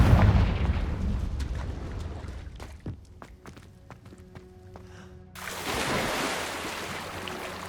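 A Confringo spell blast in Hogwarts Legacy, a burst of explosive impact at the start fading into sharp clicks and thuds, then a second broad rushing swell near the end, with no talking.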